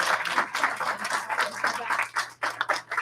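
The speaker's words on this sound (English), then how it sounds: "Everybody give him a huge round of applause." A martial arts class claps for a student earning his blue belt at a graduation, a short burst of uneven group clapping with a few louder hand strikes standing out.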